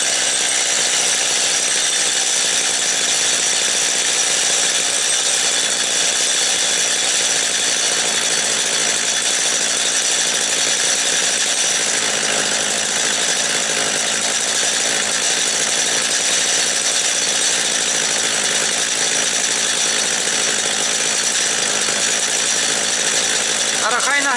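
A Stihl 230 chainsaw runs steadily for the whole stretch, a loud, close, continuous buzzing whine with no pauses, its engine settling as it warms up.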